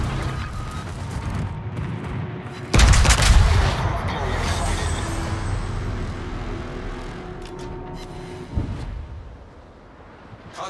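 Anti-aircraft guns firing at enemy ships in a naval combat game, an abrupt heavy volley that bursts in, then a sustained rumbling barrage with crackling shots, a second sharp blast near the end, then fading.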